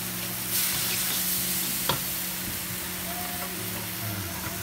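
Vegetarian noodles with water mimosa, oyster sauce, soy sauce and sugar are stir-fried in a pan, a loud steady sizzling hiss with faint scraping stirs and one sharp clack partway through.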